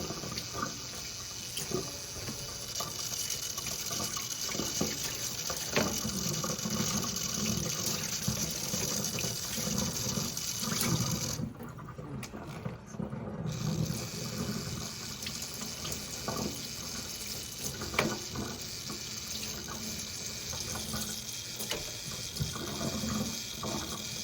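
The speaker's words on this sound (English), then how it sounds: "all I'm doing now is rinsing off the salt off the fish, and then streaming it into a colander here" Tap water runs steadily and loudly as salt is rinsed off tilapia fish and they are drained into a colander, a continuous splashing hiss throughout with a brief dip near the middle.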